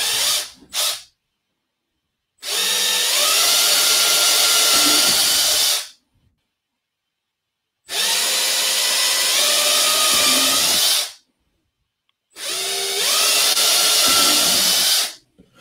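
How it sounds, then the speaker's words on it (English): A power drill whines in three long bursts of several seconds each, separated by silence, loud and close, its pitch shifting slightly as it bites into metal. "So we're just going to go ahead and drill these out."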